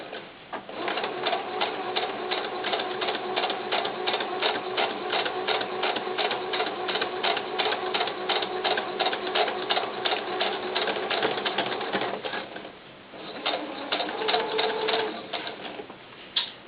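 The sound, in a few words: sewing machine stitching fabric for doll pants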